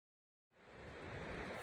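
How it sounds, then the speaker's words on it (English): Sea waves heard at night from a campsite near the Irish coast, a soft broadband wash of surf rising out of silence after half a second and continuing faint and steady. "I can hear the sound of the sea tonight."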